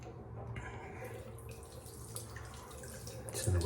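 Water runs and splashes softly at a sink while a face is wet before a straight-razor shave, a quiet steady trickle that grows louder near the end.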